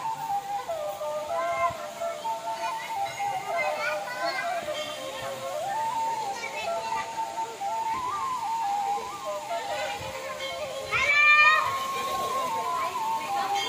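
A waterfall tumbles down a hillside at a temple site, its steady rushing wash heard under nearly continuous talk and children's voices, with a brief louder splash near the end.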